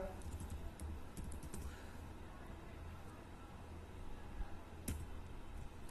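Computer keyboard typed on while entering an Excel formula, a quiet, continuous patter of soft key clicks under a low room hum, with one sharper tap near the end.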